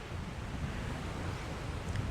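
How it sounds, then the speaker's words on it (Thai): Evening wind and sea waves at Phala beach form a steady, even rush of surf and breeze, faint and unbroken with no voices. "มาสัมผัสลมมาสัมผัสเสียงทะเลเอานะคะ"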